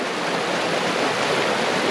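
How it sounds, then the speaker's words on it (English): Swift river water rushing over rapids in the Cranberry Wilderness, a loud, close, continuous broadband rush with no breaks and no voices. "that water's pretty swift"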